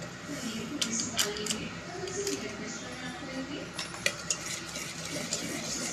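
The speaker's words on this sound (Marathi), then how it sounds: "आणि पुन्हा एकदा आपण त्याला छान हलवून घेणार आहोत मिक्स करून घेणार आहोत" Utensil stirring dhokla batter in a bowl just after Eno is added, a close, continuous scraping and clinking with small taps.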